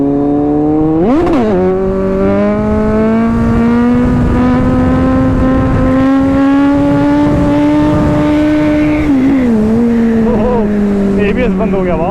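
A superbike's engine roars loud and close through a wheelie on a dry road, the pitch sweeping up sharply early on, then holding a long rising howl before dipping and climbing again, with wind rush throughout.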